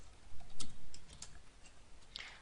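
Someone types code on a computer keyboard, a quiet run of light, irregular key clicks up close.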